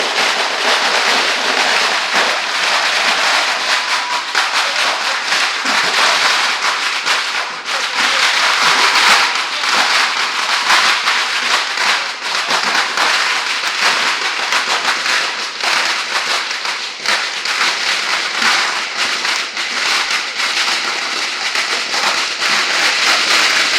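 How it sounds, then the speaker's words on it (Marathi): Dense, continuous crackle of firecrackers bursting at an election victory celebration after a municipal poll result in Mumbai, loud and sustained with rapid overlapping pops and no pauses. "फटाक्यांनी जल्लोष साजरा करतायत."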